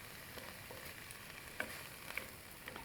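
Onions frying in a pan with spices, a soft steady sizzle with faint crackles and a few small pops, quiet and close throughout.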